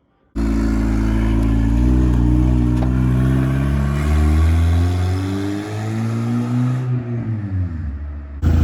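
A turbocharged 300,000-mile Honda EG hatchback is driven hard. Its engine revs loud and close, rising and falling through the gears for several seconds before cutting out abruptly.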